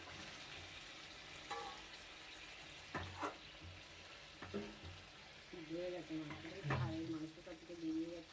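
Chicken and potatoes sauté in a pan with a soft sizzle and occasional stirring scrapes, while a voice talks quietly over the cooking.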